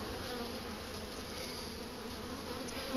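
Dense, steady buzzing of many honey bees around an open, honey-bound hive with frames being pulled, a continuous hum filling the background with no talking.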